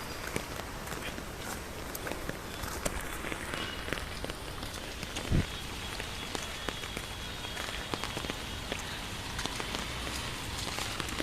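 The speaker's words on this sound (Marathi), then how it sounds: "रिमझिम रिमझिम पाऊस चालतोय" Light rain patters steadily on surfaces with scattered droplet ticks and a soft hiss, one brief thump midway, no voices.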